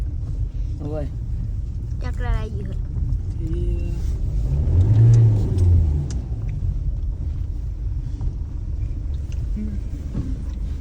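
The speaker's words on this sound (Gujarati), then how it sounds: "આ ટ્રેક્ટર આવી ગયું છે ચંદન લાકડા ભરવા" A tractor engine revs and rumbles as it arrives to load sandalwood logs in a village by a riverbank at night, swelling to a loud peak midway and then easing off, with voices talking briefly before it.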